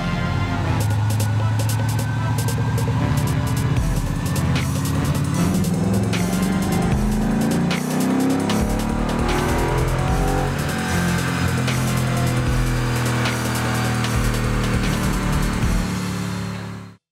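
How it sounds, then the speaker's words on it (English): A tuned Mustang with an upgraded intake runs a dyno pull, its engine roaring loud and close as the revs climb and sweep upward in one sustained, rising howl, with no voices. "then we can trap this thing back down on the dyno, do another pull, and see what kind of gains we made"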